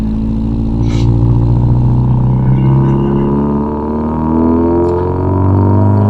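A car engine, recently treated with fuel system cleaner, pulls uphill at about 3,000 RPM and then decelerates, a loud close droning hum with steady harmonics that slowly shift in pitch, alone without voices.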